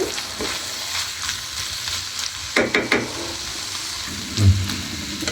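Singara filling with nuts stirred and fried in a pan, a steady close sizzle with scraping stir strokes and a few louder clanks near the end.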